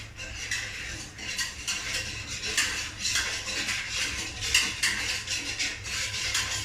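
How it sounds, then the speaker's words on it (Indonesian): Bread pudding mixture being stirred in a large pot over medium heat, with steady scraping and clinking of a utensil against the pot that continues close and fairly constant. "Nah kita aduk-aduk guys."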